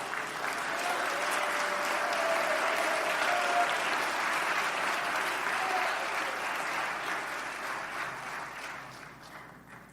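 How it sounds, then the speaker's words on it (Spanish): A church congregation applauds the Lord during a Sunday sermon, a dense, steady wash of clapping that holds strong for most of the stretch before thinning slightly near the end, with no voices over it. "Dale un aplauso al Señor."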